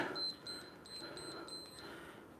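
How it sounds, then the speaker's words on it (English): Workout interval timer at a live hockey training session sounding a quick series of short, evenly spaced electronic beeps, fairly faint against a low room background. "stop beeping"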